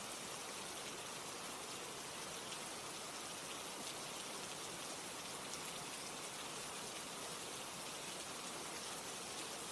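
Rain falls steadily at a constant, fairly soft level, a dense even hiss of drops with no breaks or other sounds.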